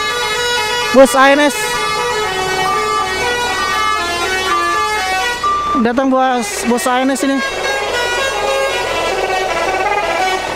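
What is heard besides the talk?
bus telolet horns honking at Poris bus terminal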